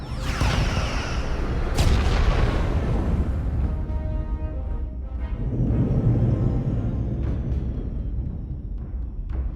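Starship weapons fire and impacts in the Star Trek Resurgence video game, a dense roaring barrage of booms and rumbling blasts, loud and continuous with a sharp burst near the start.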